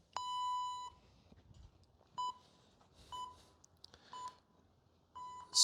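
A workout timer gives a series of beeps, first a long tone, then several shorter evenly spaced ones, faint and clean against a quiet background, ending on a louder burst.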